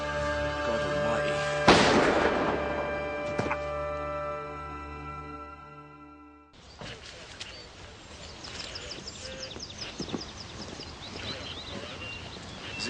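Gunshots in a dramatic scene: two sharp cracks a couple of seconds apart over a sustained musical background, followed by an abrupt cut to quieter outdoor ambience with birds and distant activity.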